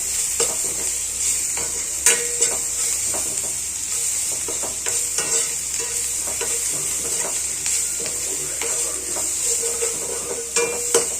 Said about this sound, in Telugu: అల్లం ఎల్లిగడ్డ పేస్ట్ పసుపు వేసుకుందాము వేసుకొని ఇది కొంచెం పచ్చివాసన పోయేంత వరకు రోస్ట్ చేసుకుందాం